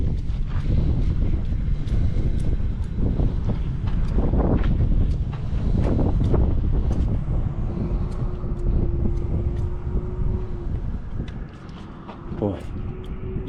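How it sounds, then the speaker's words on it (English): Gusty wind blowing outdoors beside a machine shop test stand and drill bench, loud broadband rumble buffeting the microphone throughout, with a brief faint tone and scattered clunks partway through. "Boy, the wind."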